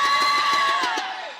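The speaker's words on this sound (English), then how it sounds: "crowd is pumped" Home crowd cheering and shouting in a high school boys basketball gym at Fort Vancouver vs. Hudson's Bay, a loud, sustained roar that fades slightly toward the end.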